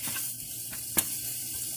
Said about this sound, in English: So, getting this sausage nice and browned.